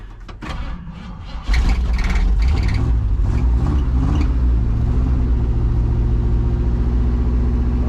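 An old truck with a freshly revived fuel system cranks briefly, then catches and starts, settling into a loud, close, steady rumbling idle.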